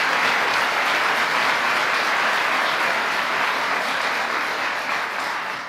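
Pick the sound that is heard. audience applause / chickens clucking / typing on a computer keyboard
audience applause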